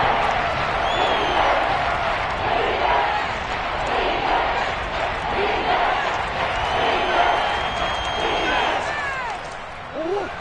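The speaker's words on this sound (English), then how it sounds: "The crowd getting into it as we come up on a big 3rd down." Football stadium crowd at a Cardinals–Panthers game roaring before a big third down, a dense sustained cheer with scattered whistles and shouts, loud and continuous.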